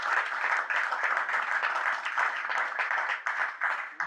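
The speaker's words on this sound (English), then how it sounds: "I think we ought to give Troy a round of applause." At a Southeast Iowa food planning meeting, a roomful of people gives Troy a round of applause, with steady, moderately loud clapping running for several seconds in an indoor space.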